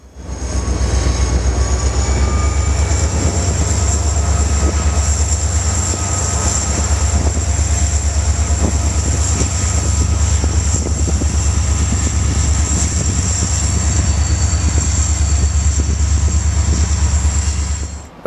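An EMD SD40-2 diesel locomotive hauls a heavy grain train into a Galesburg, Illinois rail yard: a loud, steady engine drone with a high whine and rumbling cars, lasting throughout, close by and without voices.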